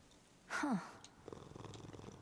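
A cat purrs in the Hades II video game, preceded by a short rising meow-like cry, then a soft rhythmic rumbling purr continues quietly and close, with no talk.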